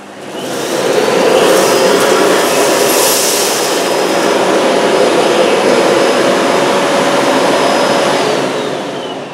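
Miele Blizzard CX1 bagless vacuum cleaner sucking up rolled oats, a loud continuous roaring whine that stays steady throughout, close up with no talk.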